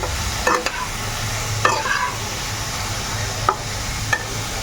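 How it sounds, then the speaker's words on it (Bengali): Cauliflower frying slowly in a pan in a home kitchen, a steady soft sizzle with a few sharp stirring scrapes at intervals; nearby and fairly quiet, with no talking. "এবারে আস্তে আস্তে ভাজা হতে থাক কপিটা"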